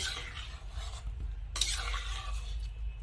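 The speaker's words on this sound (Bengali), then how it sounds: "এখন সবকিছু খুব ভালো করে নেড়ে চেড়ে মিশিয়ে নেব।" Boiled peas and potatoes being stirred in a pan, soft scraping strokes over a low sizzle with a sharper clatter midway, faint and close, no talking.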